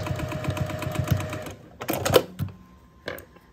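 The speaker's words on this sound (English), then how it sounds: "we're gonna sew along this top edge with 1/4 inch seam allowance, back stitching at the beginning" A sewing machine stitches a quarter-inch quilt block seam for a Dresden plate, a rapid rattling run for about a second and a half, then a few short back-stitching bursts, close up.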